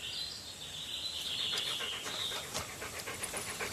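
Dogs pant quickly and rhythmically, close by, with faint bird chirps in the outdoor background and no speech.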